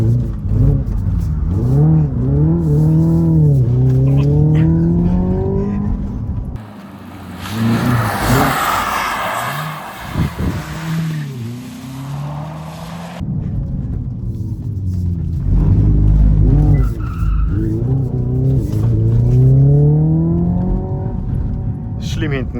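A Hyundai electric car in drift mode plays simulated engine sounds, loud revving that sweeps up and down in repeated gear-like steps, broken by a stretch of rushing road and wind noise, with people talking in German and English.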